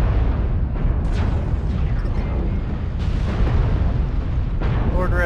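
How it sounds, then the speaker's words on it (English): Incoming missiles in MechWarrior Online land as a dense run of booming impacts and rumbling blasts, loud and continuous, with radio-style voices heard over the barrage. "Warning, incoming missile."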